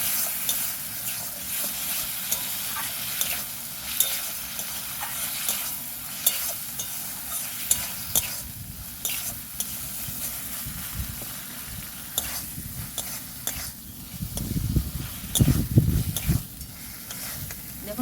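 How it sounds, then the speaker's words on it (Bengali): Spice paste (masala) for a thin rohu fish curry with potato is sautéed in a pan with a splash of water, a continuous close sizzle broken by spatula scrapes and stirring, growing louder and busier toward the end. "আরও একবার ভালো করে কষিয়ে নেব।"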